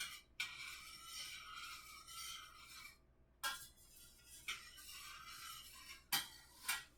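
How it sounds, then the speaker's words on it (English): A spoon stirs a drink, scraping and clinking against the glass in several raspy bursts separated by short pauses, close by and quiet. "I'm going to stir it up"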